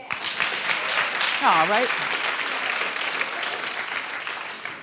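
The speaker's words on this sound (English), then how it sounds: "Clap if you would." Sustained audience applause fills the room at steady loudness, with a brief spoken interjection and a voice rising over the clapping partway through.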